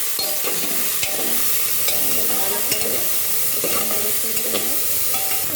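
Cashews and green chilies sizzle in a hot pan while a spoon stirs them, with steady broadband frying hiss and repeated scraping clinks throughout, close and fairly loud.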